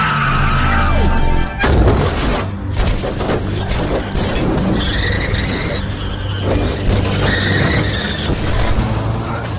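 In a film chase, a car skids and smashes into a truck, with screeching tyres, a loud crash and a sustained engine roar over continuous heavy action noise.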